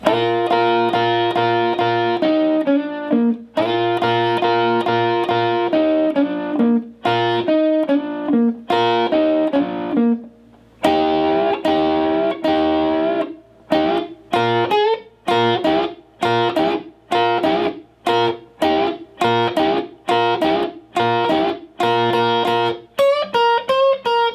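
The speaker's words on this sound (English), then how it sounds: "let's put that entire second half of the solo together now." Electric guitar plays the second half of a solo, loud and close, with bursts of sustained double-stop bends followed by a run of quick, choppy repeated notes.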